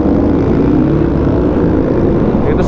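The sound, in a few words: Yamaha Tracer 9 GT motorcycle with Akrapovic exhaust revving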